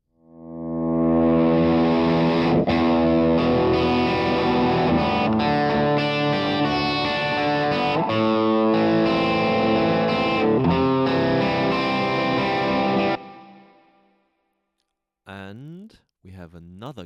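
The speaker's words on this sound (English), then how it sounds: "then we have an overdriven guitar sound. It's called Guitar 2. That's this one" Overdriven electric guitar patch used for a song's chorus, thick and distorted with sustained ringing chords for about thirteen seconds before cutting off, followed by a short separate burst near the end.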